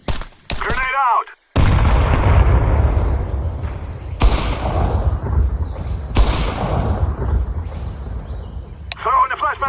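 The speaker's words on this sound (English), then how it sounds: "Grenade out!" Grenade blasts and gunfire from a Counter-Strike 2 match, loud booming bursts at about 1.5, 4 and 6 seconds, each with a rumbling tail, amid steady game noise and brief voice-like sounds at the start and end.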